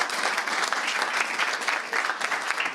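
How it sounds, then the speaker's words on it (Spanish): Steady applause from a conference audience clapping for a panel speaker, dense and continuous throughout without any break. "Un aplauso ahora para Cristian"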